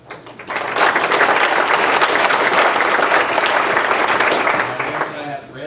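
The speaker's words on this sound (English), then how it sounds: "I'd like to give a round of applause" Sustained round of applause from a banquet audience, dense and loud, swelling in quickly and holding steady for several seconds before tapering off.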